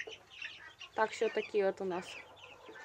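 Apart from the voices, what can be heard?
chicks clucking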